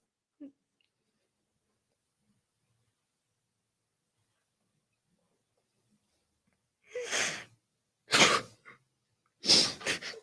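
Three sneezes in close succession, loud and near, preceded by a long quiet stretch with only a faint brief sound near the start.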